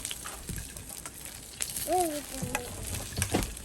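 White sauce of butter and flour stirred in a pan on a stove, a soft sizzle under scattered scraping and stirring taps, quiet and close, with a brief whistling tone partway through.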